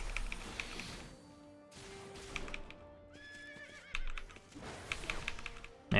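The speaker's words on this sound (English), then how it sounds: "Man, I didn't see that horse for a moment." A horse in a video game neighs and whinnies a few times, with clip-clop hoofbeats passing by, set against soft chiming game music and ambience and no talk.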